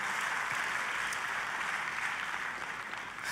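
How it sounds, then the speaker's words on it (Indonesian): A church congregation claps in praise, a dense, steady wash of applause filling the room for the whole stretch without any voices over it. "Tepuk tangannya boleh yang paling meriah buat Tuhan kita"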